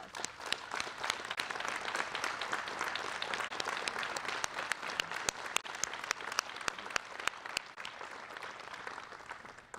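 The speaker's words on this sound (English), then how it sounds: "So let's give them a well-deserved round of applause." A crowd claps steadily at a Chicago press conference, a dense patter of hands that carries on for several seconds at moderate volume.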